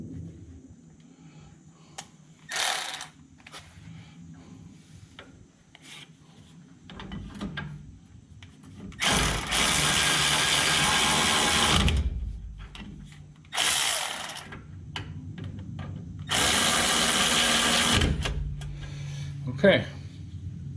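A power tool snugs up the rear brake bolts on a Ford F150, with a short burst followed by two longer whirring runs and some clicks and handling noise in between.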